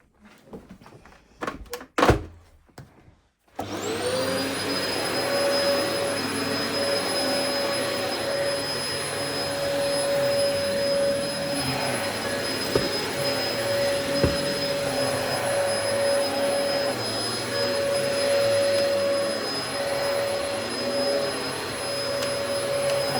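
A few clunks and knocks, then a heavy vacuum cleaner switches on and runs steadily on carpet with a loud, constant whine and hum.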